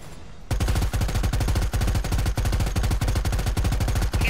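Gunfire in the video game Predator: Hunting Grounds: after a brief quiet moment, a loud, rapid automatic burst of shots rattles on continuously in a fast, even rhythm with no talking.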